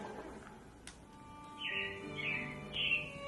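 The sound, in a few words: robins chirping at a Magic Kingdom attraction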